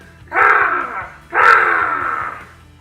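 A voice imitates a pterodactyl with two harsh, raspy screeches, each about a second long, loud and close, separated by a brief pause.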